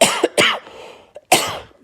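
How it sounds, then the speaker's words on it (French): A person ill with COVID-19 gives a dry cough: three sharp, close hacks, two in quick succession and then one more after a short pause, with nobody talking. "c'est une espèce de toux sèche"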